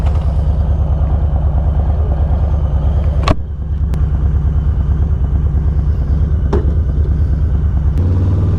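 A 2022 Harley-Davidson Street Bob 114 motorcycle rumbles steadily and loudly up close, a continuous low engine throb with a few sharp clicks and clanks partway through, no talking.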